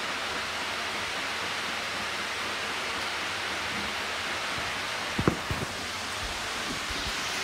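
Water sprays steadily from a TikTok-bought shower head, a dense, even hiss that runs unbroken throughout, with a few brief knocks partway through.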